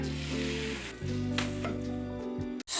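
Crepe batter sizzling in hot fresh butter in a pan, a steady, close frying crackle running throughout, with a faint clatter near the end and a brief cut-off just before it stops.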